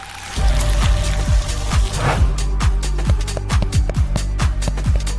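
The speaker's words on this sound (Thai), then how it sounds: "จากนั้นก็เทน้ำอัดลมเมาท์เทนดิ" Carbonated Mountain Dew soda poured into a glass decorated with strawberry syrup, a steady fizzing, trickling pour with crackling bubbles, close and continuous throughout.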